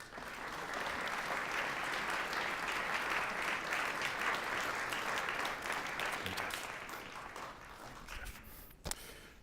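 An audience at a panel discussion on the 14th Amendment claps steadily in warm, even applause for several seconds before it thins out, with a few scattered claps and a thump at the end.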